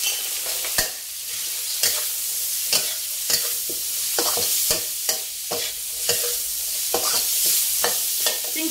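Long beans stir-fried with minced pork in a home-style Thai dish: steady frying sizzle with repeated sharp scraping and clatter of a spatula against the pan, loud and close, with no talk.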